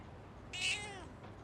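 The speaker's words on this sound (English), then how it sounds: "Oh hey, there's the cat." A single clear cat meow from Persona 3 Reload, a bright rising-then-falling cry near and alone over a faint background hum.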